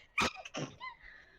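A single sharp human sneeze bursts out close by, followed by a softer trailing breath.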